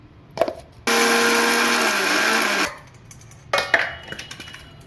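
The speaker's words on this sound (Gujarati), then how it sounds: "ખાંડને દળી નાખીએ" A mixer grinder grinding sugar whirs loudly for about two seconds, bracketed by clatter and knocks of the jar, no talking.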